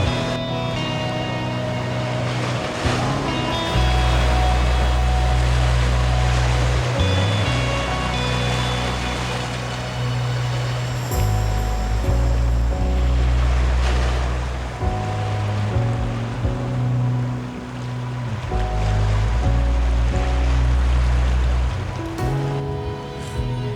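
Wind and surf on a near-empty beach at Børsmose on a windy day, with heavy low wind buffeting that rises and falls in gusts over a constant wash of waves, no voices.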